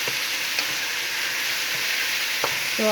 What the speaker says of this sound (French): So I'm going to add the tomato fruit and the tomato paste at the same time.